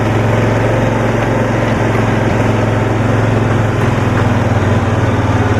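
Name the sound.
1972 Cushman pickup engine running in first gear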